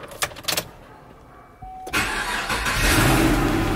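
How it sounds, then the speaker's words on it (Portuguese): A Chevrolet Camaro with a misfiring engine cranks with a whirring starter after a few clicks, then catches and runs roughly with an uneven, sputtering idle, close and loud. "Será que o Camaro liga, galera?"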